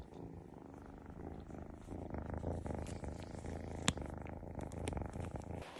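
A male cat purrs while being petted: a soft, continuous rhythmic rumble that is close and quiet, with one brief sharp click partway through.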